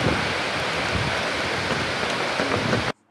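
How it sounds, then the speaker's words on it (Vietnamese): Heavy rain pelts down on a football pitch at the Military Region 7 stadium, a loud, unbroken roar of hiss and spatter that cuts off abruptly near the end. "Nãy trời đang đẹp, đùng cái mưa trắng trời."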